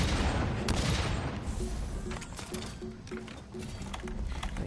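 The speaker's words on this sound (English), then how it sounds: "you can just fire away" Heavy bowgun in Monster Hunter World firing repeatedly at a large monster, a dense run of booming shots over loud game action, with a steady rhythmic pulse of impacts through the middle.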